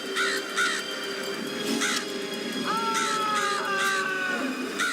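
Harsh crow caws from a Beyond Belief: Fact or Fiction episode come in short bursts over a low steady hum, followed by a longer drawn-out call near the end, with no voices present.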